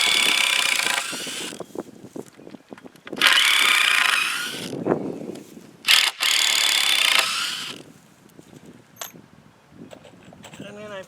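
A power driver backs screws out of a wooden privacy fence on a homestead in several loud, sustained whirring bursts, separated by quieter clicks and handling noises, with talk in between.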